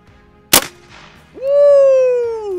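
An air-powered shotgun fires once at clay targets outdoors, a single sharp, loud pop. About a second later a voice lets out a long, cheering whoop.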